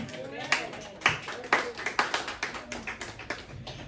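A congregation at a church worship service claps in a steady rhythm, bright sharp hand claps repeating about twice per second with voices faintly underneath.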